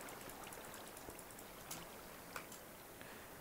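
Water flowing from water sources placed in Minecraft, a steady, soft rushing wash like a small stream with a few faint splashes, continuous and fairly quiet throughout.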